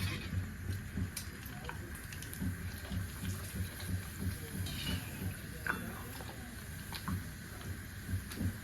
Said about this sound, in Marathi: तेल छान असं तापलेलं आहे तर मी एक पापडी टाकून बघते